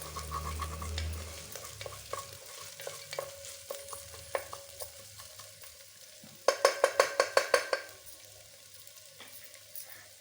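Ingredients for mutton soup sauté and get stirred in a pan, with a soft sizzle, scattered scraping taps of a spoon, and then a quick burst of about eight sharp knocks near the end, all close by with no talk.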